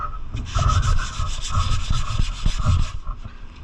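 Hand sanding works over low spots on a classic car's body panel, a close rhythmic scratching of repeated back-and-forth strokes running steadily, with no voices.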